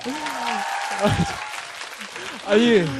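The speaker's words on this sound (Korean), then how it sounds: "자, 여러분 박수 주십시오." Audience applause during a live radio broadcast, a broad wash of clapping mixed in under voices and laughter, with a brief swell near the end.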